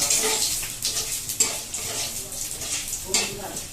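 A utensil stirs and scrapes food in a pan on the stove, irregular scraping strokes over a soft sizzle, close and moderately loud, with no talk.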